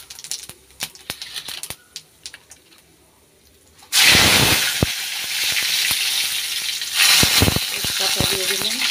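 Cumin seeds dropped into hot oil in a home kitchen pan, a sudden loud sizzle bursting in after quiet clicks and steadying into a strong, close crackling hiss with a brief surge near the end.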